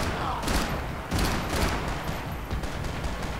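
Gunshots in the video game Max Payne 3, fired at an enemy's legs: dense, heavy bursts of shots and thuds repeating in quick waves over a steady, noisy background.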